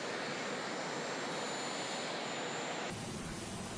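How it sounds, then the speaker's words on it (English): Jet aircraft landing at London Stansted Airport in Essex at night, a steady broad roar of engines throughout, continuous and fairly loud with no voices. "Landing at London's Stansted Airport in Essex Tuesday night, US President Donald Trump and First Lady Me"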